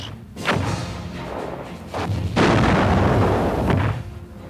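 Radar-directed anti-aircraft gun firing, a run of heavy booming thuds and rumbling blasts that overlap into a continuous loud barrage with no voices.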